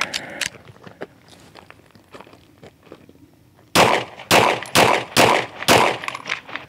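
A Glock 19X pistol fires six sharp, loud shots in a quick, fairly even sequence after a few seconds of quieter clicks and handling sounds.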